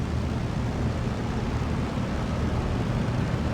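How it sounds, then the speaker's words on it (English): A biplane passes overhead in Steel Division 2, a steady low engine drone that holds at an even, fairly loud level with no break and no voices. "Oh, that's biplane."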